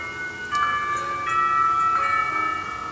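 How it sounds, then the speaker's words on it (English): A school bell rings in the Katawa Shoujo visual novel: a sustained, moderately loud electric chime with several struck pulses over a steady hum, heard alone without any voices. "the bell rang."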